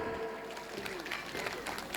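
Applause from the audience at an Urdu poetry gathering in Bareilly, a moderate patter of clapping that builds and carries on throughout, with crowd murmur in the background.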